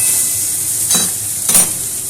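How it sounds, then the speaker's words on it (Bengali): A utensil stirs fried fuluri fritters in a hot pan, giving two brief scraping strokes over a steady, loud sizzle. "একটু নাড়াচাড়া করে নিচ্ছি।"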